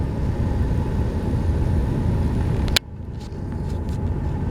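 A vehicle drives up a dirt road into San Pablo Canyon, a loud, steady engine rumble with road noise that drops off abruptly partway through and then continues more quietly.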